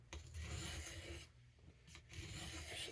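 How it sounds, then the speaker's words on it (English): Steady rasping scrape of a Boker C75 knife blade drawn back and forth across a sharpening stone, in long continuous strokes with two brief pauses, close and fairly loud. "I'm going to come down this stone like if I was drawing a burr"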